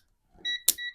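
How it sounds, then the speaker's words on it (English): A digital multimeter beeps as it is switched on, giving two steady electronic tones with a sharp click between them, close and fairly quiet after a brief faint rustle. "I will turn on my multimeter now"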